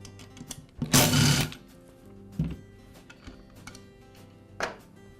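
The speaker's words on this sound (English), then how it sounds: "I'll go ahead and remove those screws." Screws being backed out of the motor cover of a Porter Cable router: a loud burst of driver whirring followed by a few short clicks and scrapes, close and alone.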